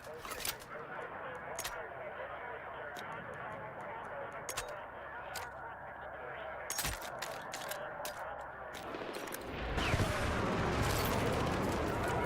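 AK rifle fire in Battlefield 6 comes as sharp, separate shots and short bursts over constant game noise, with a louder roaring rumble near the end and someone talking throughout.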